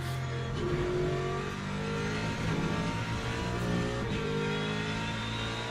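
A race car engine from a racing video game drones steadily with layered harmonic tones and shifting revs, loud and continuous throughout, with no talking.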